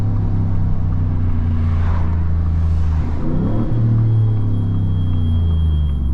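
A Ford Raptor pickup's engine roars loud and steady from inside the cab, deep low rumble with a rise in revs partway through as it shifts, no talking.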